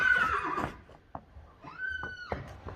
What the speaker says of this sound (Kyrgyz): 4-cü номердеги да мына Акжал кулун чыгып келатат.